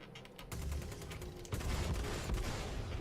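In the Star Citizen game, a spaceship takes weapon fire in a dense, continuous rattle of rapid gunfire and impacts over a rumbling background, fairly loud and close with no talking.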